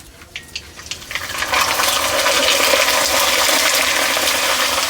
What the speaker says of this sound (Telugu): మనకు నూనె మంచిగా వేడైపోయింది. ఇప్పుడు మనము మన చిప్స్లు వేసుకుందామండి